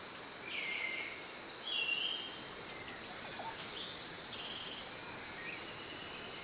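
Male insects in a Costa Rican forest call in an unbroken high, shrill chorus of trills, with a few brief chirps scattered over the steady drone.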